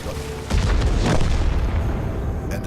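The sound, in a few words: tank cannon fire in video game World of Tanks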